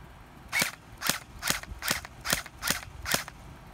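Seven sharp shots from a GFAP13 airsoft pistol fired on semi-automatic, evenly spaced about half a second apart, crisp and close with nothing else in between.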